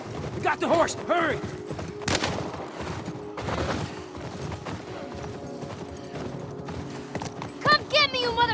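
Horse hooves pound at a gallop in The Last of Us Part I, mixed with bursts of gunfire and shouting voices, a loud, chaotic chase with an occasional whinny near the end.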